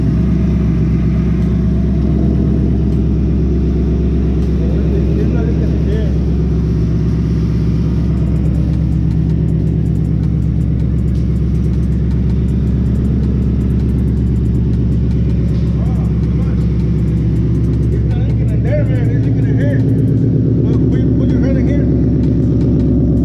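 A car engine with headers and worn exhaust clamps that leak runs at a loud, steady idle, a constant deep rumble with someone talking over it throughout.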